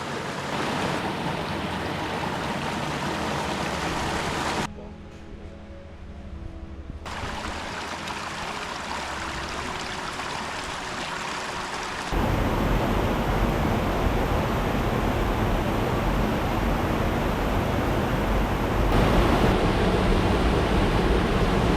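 Creek water on Red Creek in Dolly Sods runs as a steady, full broadband rush close by, briefly dipping quieter mid-clip before swelling louder and continuing unbroken to the end, with no voices.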